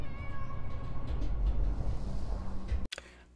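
A cat meows in a scene from the 2023 horror film Evil Dead Rise, set over a low rumbling backdrop that cuts off abruptly into a sharp hit near the end.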